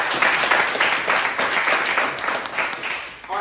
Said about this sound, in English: My man, can we give him a round of applause?